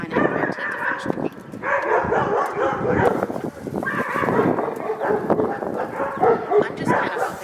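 A neighbor's dog barks and yips repeatedly through the whole stretch, its sound heard at moderate distance in an outdoor yard during grilling, mixed with someone talking.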